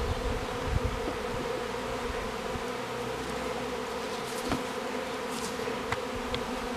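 Swarming honeybees during swarm collection make a dense, continuous buzz that hums steadily close by, with occasional faint clicks and rustles from handling.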